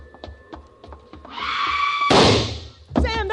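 A single heavy gunshot effect in a Sam Spade radio drama bursts out loud and sharp after a rising whine, then decays, with a brief tonal squeal following.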